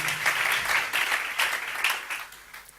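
A church congregation applauds in a sustained burst of dense, rapid clapping that swells and eases in waves before tapering off.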